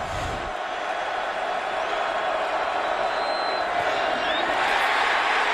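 A hometown crowd at a 2012 college football homecoming game, Baylor at West Virginia, roaring in a dense, sustained wash of cheering that builds slightly louder, heard from within the stadium.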